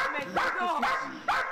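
An American bully dog barks during attack training with a trainer present, giving a few close, sharp barks and yips mixed with someone speaking over them.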